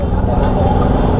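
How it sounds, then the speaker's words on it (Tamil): Heavy road traffic on an Indian roadside near the Taj Mahal, a dense, continuous roar of engines and tyres close by, with a brief hiss like an air brake early on. "ஸோ டிராஃபிக் செம்ம டிராஃபிக்குங்க."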